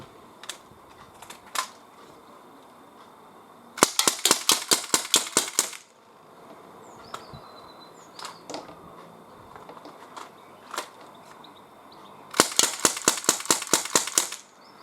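Two fast bursts of about eight sharp pops each from a Gamo MP-9 air pistol, emptying its double magazine at three cans 12.5 metres away outdoors, with scattered single cracks and soft clinks between the bursts.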